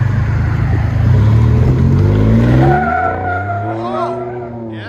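A 2019 Ford F-150 Ecoboost with upgraded turbos, a Vibrant resonator and a 4-inch Magnaflow bolt-on exhaust roars loudly as it accelerates, its tone sweeping upward before fading, with a voice briefly heard toward the end.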